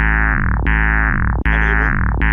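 A start-up sound effect from a maze video game: loud, sustained electronic tones with a distorted, processed timbre, played in repeating phrases with brief breaks and no talking.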